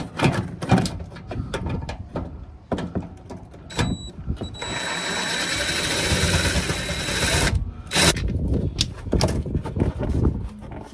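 Fasteners are worked loose by hand on the front wing and bumper of an Audi A3 8P, giving repeated close clicks and knocks, a steady whirring stretch in the middle, and scattered rattles around it.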